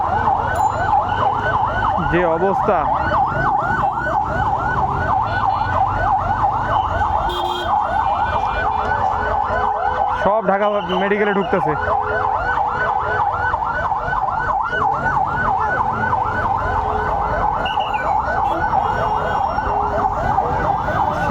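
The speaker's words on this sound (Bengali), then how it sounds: "বার্ন ইউনিটের এখানে অ্যাম্বুলেন্স এসে নামাই দিয়ে আবার চলে যাচ্ছে" Ambulance sirens wail continuously and loudly at a hospital burn unit in Dhaka during a mass-casualty emergency, with vehicles arriving and leaving, while a voice speaks briefly over the din.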